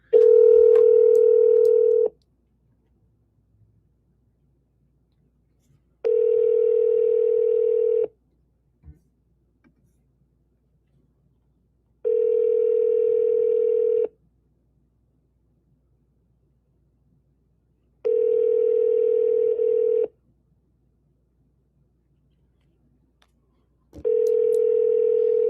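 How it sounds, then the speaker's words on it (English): A telephone rings in long, steady single-tone bursts of about two seconds each, repeating at regular intervals with near silence between them, loud and clear without any talk. "So the phone is ringing again."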